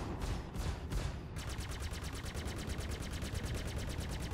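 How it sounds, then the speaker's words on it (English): Ship weapons in the space game Star Citizen fire in rapid automatic bursts, a few separate shots followed by a sustained, evenly spaced stream of loud blasts over a dense rumbling background. "You can fire your weapons and see what color projectiles are flying."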